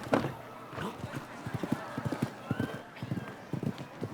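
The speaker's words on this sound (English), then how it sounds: "And she is an aggressive young rider with a talented horse in Hester." A horse's hooves clip-clop in an irregular, quick rhythm at an outdoor show jumping event, moderately close and fairly faint, with a voice talking in the background.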